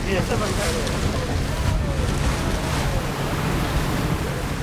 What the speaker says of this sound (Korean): 지금 파도가 3m 돼요?